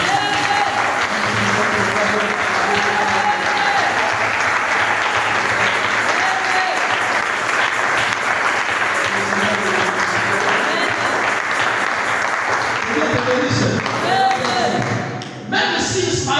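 Congregation applauding and cheering at a church service, a dense, loud, continuous wash of clapping and crowd voices that holds steady for most of the stretch before thinning out near the end.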